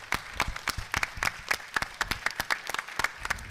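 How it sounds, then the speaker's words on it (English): A small audience at a photography show's round-table discussion claps for several seconds, sounding as a fairly sparse, uneven patter of individual hands rather than a roaring crowd. "if we could just give them a massive round of applause"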